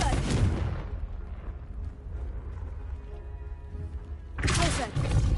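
A Confringo blasting spell in a Hogwarts video game goes off as a loud burst at the start, then fades to a low rumbling tail before a second bright blast erupts near the end.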